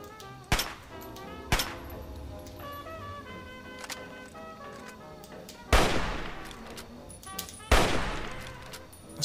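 Several sharp rifle shots fired in the video game Fallout 3, spaced apart over a background of game music, with two louder, heavier blasts near the end.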